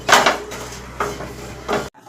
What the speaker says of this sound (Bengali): এই দেখো কাঁঠালের আটিগুলো ভাজছি।